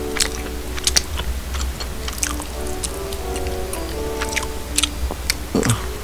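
Crunchy bites and chewing of kimchi during a Korean mukbang meal of cheonggukjang and kodari, close to the mic with irregular crisp clicks over a low steady hum.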